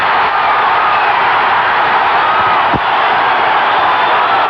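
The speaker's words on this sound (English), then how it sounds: "Crowd responding to LeDoux" A boxing arena crowd at a Scott LeDoux versus Ken Norton heavyweight fight roars for LeDoux in a loud, continuous wash of cheering and yelling, with one brief sharp thump partway through.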